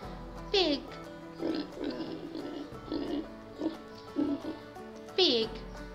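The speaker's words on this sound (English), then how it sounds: "Pig." A pig oinks and grunts repeatedly at close range, with short nasal grunts between two louder, squealing oinks near the start and end.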